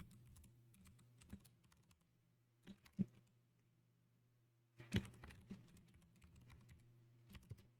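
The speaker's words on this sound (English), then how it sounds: "So I'll start typing those out while I'm waiting here" Quiet computer keyboard typing in irregular bursts of soft clicks, with a few sharper keystrokes and short pauses between runs, set against a low steady hum.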